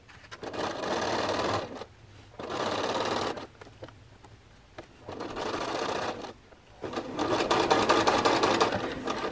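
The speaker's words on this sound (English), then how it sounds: "We're stitching the top along the edge, which has the top layer encased." A sewing machine edge stitching a flat felled seam on jeans, running in four close bursts of rapid mechanical whirring, separated by short pauses with small clicks.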